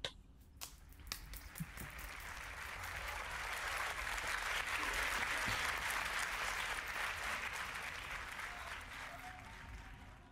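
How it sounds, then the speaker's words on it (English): Warm, steady applause from an audience welcoming a speaker at a storytelling showcase, swelling after a few scattered first claps and holding at an even level to the end. "let's give her a warm applause"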